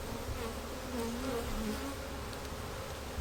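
Honeybees swarm around an open beehive frame full of brood, giving a dense, continuous buzzing drone that hums close by at steady volume throughout.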